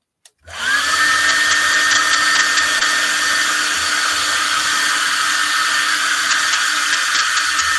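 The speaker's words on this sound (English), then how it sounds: "I'm going to hit this with a hairdryer" A hair dryer switches on and blows steadily on painted work with a loud, constant whooshing whine that continues without a break.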